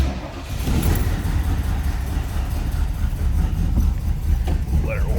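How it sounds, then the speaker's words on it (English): Engine of a 1971 Mercury Cougar with a 351 V8 rumbling steadily at idle, a continuous deep, close running sound that holds loud and even throughout. "Let's go ahead and fire this up so you can hear that 351 run."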